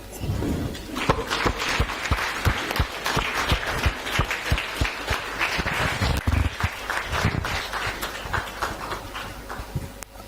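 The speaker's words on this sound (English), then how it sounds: "give a hearty clap to Mr. Sam Omukoko" Audience on its feet clapping for a keynote speaker at a Mombasa quiz night, a crowd of hands at moderate volume with distinct individual claps standing out, continuing steadily for about ten seconds before tapering off.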